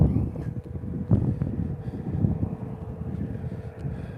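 Freezing cold wind outdoors on a walk, a steady low rumbling buffet across the microphone with a constant gusty roar and no talking.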